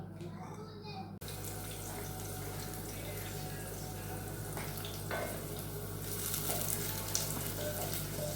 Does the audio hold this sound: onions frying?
yes